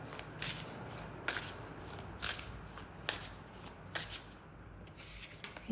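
Tarot cards are shuffled by hand in a quiet room, with a run of soft riffling bursts repeating about once a second, each one brief and close.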